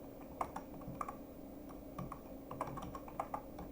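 Someone types code on a computer keyboard: quiet, irregular clusters of key clicks in short bursts over a soft background hum, with no talking.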